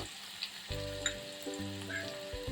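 Crushed garlic cloves and a pinch of asafoetida sautéing in a few spoonfuls of hot oil, a quiet sizzle with brief spatters and a low hum underneath, short and close.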